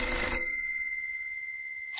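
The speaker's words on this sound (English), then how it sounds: "A ringing phone." A telephone rings in the video game Mermaid Swamp: one bright electronic ring burst that stops, leaving a sustained high tone that slowly fades before a second ring begins at the end.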